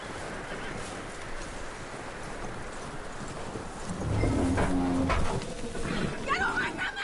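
In the Red Dead Redemption 2 video game, a horse's hooves clip-clop at a steady walk on an outdoor trail. A brief snort or whinny comes midway and a voice speaks briefly over it.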